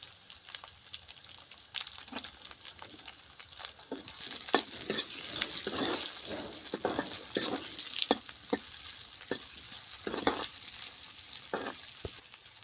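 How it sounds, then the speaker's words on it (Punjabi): Onions go into oil after the garlic has roasted, for a vegetable khichdi, crackling and sizzling up close with sharp pops and stirring scrapes, rising in intensity partway through, and no talking. "ਲਸਣ ਨੂੰ ਭੁੰਨਣ ਤੋਂ ਬਾਅਦ ਆਪਾਂ ਪਾਵਾਂਗੇ ਜੀ ਪਿਆਜ਼"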